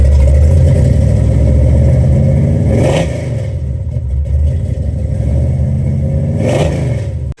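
Loud, close revving from a supercharged small-block 406 V8 in a Fox Body car, with two sharp blips of the throttle that rise and fall over a heavy idle before it cuts off abruptly.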